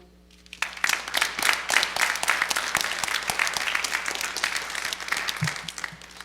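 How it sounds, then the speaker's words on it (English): An audience applauds at the end of a talk, the clapping bursting in after a quiet start and continuing steadily at moderate loudness with individual claps audible. "We get one more round of applause for Court."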